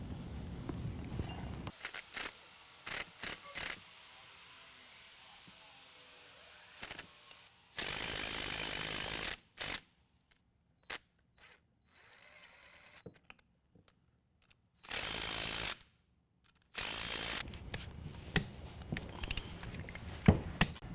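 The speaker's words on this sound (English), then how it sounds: "we're just going to thread these bolts in, kind of snug them up with the impact" An impact wrench snugs lift kit bolts on a 2016 Chevy Silverado 1500 during a Havoc Offroad 6.5-inch lift install, firing in three loud sustained bursts between scattered clicks and handling noises.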